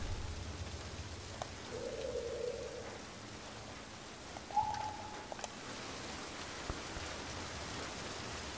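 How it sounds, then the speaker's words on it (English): Steady rain pattering down in the video game The Last of Us Part II, a continuous hiss with a couple of faint tonal blips, no voices. "Walking in the rain."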